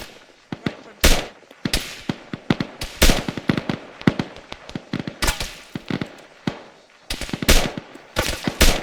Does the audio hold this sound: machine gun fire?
yes